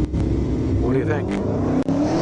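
An all-electric Tesla and a gas supercar accelerate side by side in a drag race, a loud, continuous engine roar rising in pitch over about two seconds, heard under crowd noise and talking at the event.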